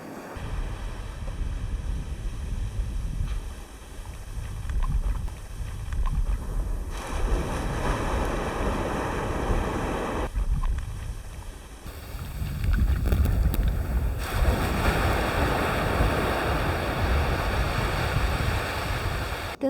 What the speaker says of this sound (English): the sound that the ocean makes when it hits all the shells is amazing